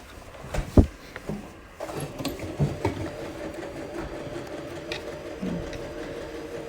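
A sewing machine stitches a zipper into fabric, its mechanism clattering and whirring in uneven bursts nearby with a few sharper knocks and no talking.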